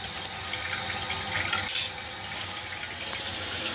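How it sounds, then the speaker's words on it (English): Water rushing steadily through a reopened toilet supply line after reinstallation, a continuous close hiss with a brief louder spurt midway and no talk. "And then once you're done, you open the water."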